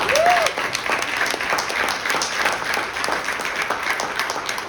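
A crowd at a Columbus Day event in New York City claps steadily and continuously for the NYPD, the sound spread and fairly distant, with a brief whistle near the start.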